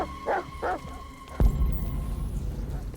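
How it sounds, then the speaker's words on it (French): In the video game Detroit: Become Human, dogs bark a few times in quick succession at a moderate distance, followed by a thud and a low rumbling game ambience. "Ok, il y a des chiens."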